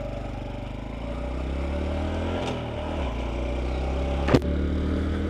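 A 2023 Honda Trail 125 motorcycle being ridden, its engine giving a steady mid-pitched drone with wind rush, and a brief clatter near the end.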